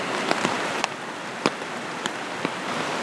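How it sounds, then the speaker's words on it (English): Steady rain falls on a backpacking trip, heard as a dense, even hiss with occasional louder drops tapping nearby. No one speaks. "I'm just gonna lay here and listen to the rain"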